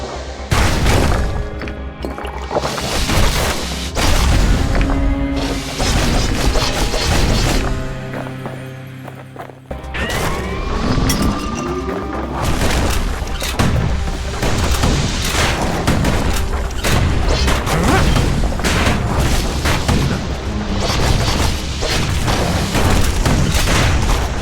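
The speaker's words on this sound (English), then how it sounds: "Kid's blasting everything in sight with that newfangled musket." A musket in the video game Bastion fires in rapid, booming blasts, repeated densely and loudly over a busy background of game sound, with a short lull partway through.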